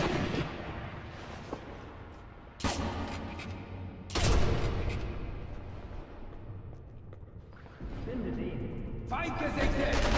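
Gunfire and booming shots in the sniper video game Sniper Elite V2, with a few loud sharp blasts cutting through a busy, noisy battle bed while a person talks over it.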